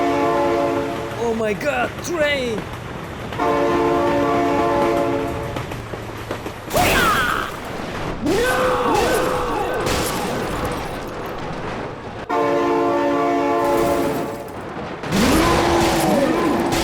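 A train rumbles past in the BeamNG driving game, sounding several long, loud horn blasts over engine and road noise while a voice exclaims excitedly.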